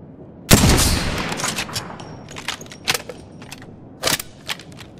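Gunfire in Apex Legends, heard as one loud close shot followed by a string of sharp, scattered reports and short bursts, some nearer and some more distant, with no talking.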